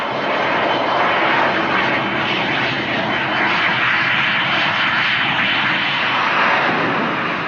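A Gloster Meteor jet fighter's engine roars as a loud, steady, broad rumble that holds without a break, with no voices.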